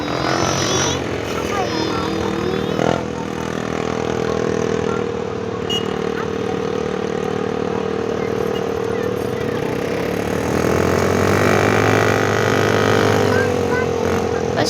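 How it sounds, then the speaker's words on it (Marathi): Vehicles pass on a road during a trip to Alibag, with a continuous droning rumble of engines and motorbikes that swells and fades, mixed with faint voices. "कसे गाड्यांचे आवाज येत आहेत?"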